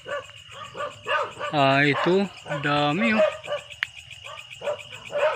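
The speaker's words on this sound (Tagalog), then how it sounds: "Kaso nga lang ang ingay ng mga aso, tinatahol kami mga kaprobinsya." Dogs bark at night on Camotes Island during a spider hunt, several loud harmonic barks in two bursts over crickets, with someone talking throughout.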